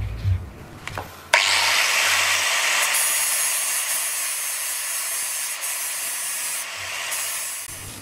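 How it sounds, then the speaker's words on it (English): A grinder working the ends of wheel studs on a Mazda MX5 Miata, a loud, continuous high hissing grind that starts abruptly and holds for several seconds with slight dips, close up. "I just grounded the end of the stud till I couldn't see that hole"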